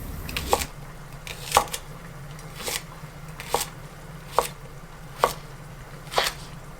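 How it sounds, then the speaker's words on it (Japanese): A knife cuts Japanese leeks into roughly 4 cm pieces on a cutting board, seven crisp, evenly spaced chops about a second apart, each a sharp knock with a quiet pause between, close and clear. "長ネギは4センチ程度の長さに切って耐熱容器に入れます。"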